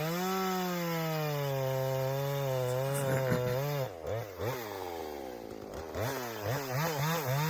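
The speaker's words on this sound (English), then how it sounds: "So you got to cut your log at least long enough that your blade's not going to go all the way to the other side from underneath" A chainsaw cuts into a log nearby, its engine whining steadily and then bogging and revving in uneven surges as the blade bites through the wood.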